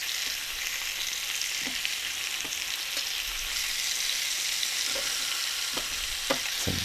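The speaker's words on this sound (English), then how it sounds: "We're going to toss our mushrooms on there." Mushrooms fry in oil on a grill, giving off a steady hissing sizzle with occasional small pops and clicks from tossing and moving them around. No one speaks over it.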